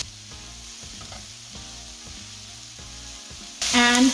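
Carrots and rice stir-fry on high flame for burnt garlic veg fried rice, a continuous close sizzle with stirring, ending in a sudden loud tonal burst in the last half second.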